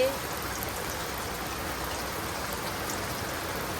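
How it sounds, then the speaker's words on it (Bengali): Rain falls in a village setting as a steady, even hiss with no distinct drops, constant and moderately loud for the whole stretch. "বৃষ্টি নামছে"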